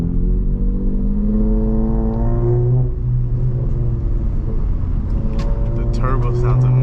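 A 2025 Honda Civic Type R under way, its engine droning low and steady with a rising whir from the turbo, heard from inside the cabin with road rumble beneath and someone talking over it.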